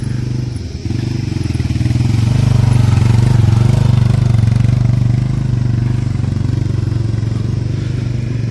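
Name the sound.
motorcycle approaching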